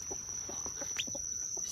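Chick calling, a few soft, quick peeps scattered across a quiet room, faint against a constant high-pitched electrical whine.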